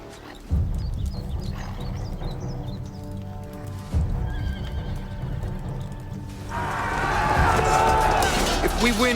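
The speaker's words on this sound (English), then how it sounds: "Bring me my horse." Horses in a battlefield setting whinny loudly and up close while hooves clip-clop steadily, with a long rising neigh swelling near the end.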